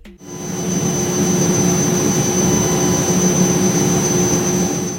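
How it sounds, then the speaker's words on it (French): A steady high-pitched electronic hum from an Accutron SpaceView tuning-fork watch holds a constant tone over a broad noisy hiss, unchanging throughout. "Écoutez ce bourdonnement, c'est le son d'une révolution."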